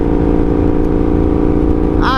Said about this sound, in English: Just keeps me awake by revving it and keeping it higher RPMs.